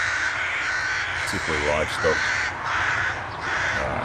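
Rooks caw in a few harsh bursts from a countryside garden setting, partly masked by someone talking over them.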